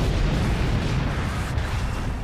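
An explosion with roaring fire from a DOS computer game, a dense, loud, continuous low rumble and crackle filling the whole stretch without letup.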